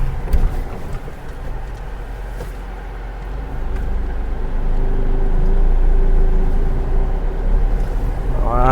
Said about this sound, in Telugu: మన కారు స్పీడ్ వెళ్ళిపోతుంది